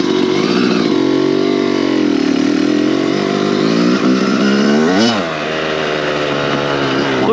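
A 125cc motorcycle engine revs on a track, loud and close, holding a steady drone with a rise in pitch and a quick blip midway, no talk over it.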